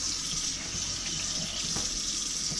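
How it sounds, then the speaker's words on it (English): Tap water runs steadily from a faucet as pieces of smoked trout are rinsed under it, a continuous close hiss and splash with small shifts where the fish moves through the stream. "run it under some water, and just rinse it off"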